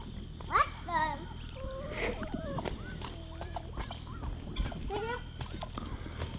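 Backyard chickens and ducks clucking and squawking in short, uneven bursts, near and fairly loud, with a voice mixed in among the calls.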